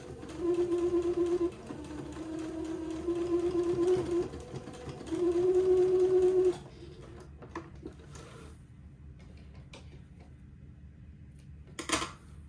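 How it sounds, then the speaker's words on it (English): Sewing machine stitching back and forth across a dress placket, with a close, steady motor whir running in several bursts, each separated by short pauses, then quiet handling noises. "Just go backwards and forwards a few times at a 45-degree angle with some just regular size stitches."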